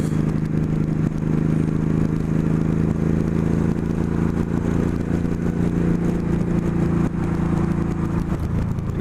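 A motorcycle engine runs steadily on a cool day among a bunch of bikes, a loud continuous low rumble with rough texture and no break, close by.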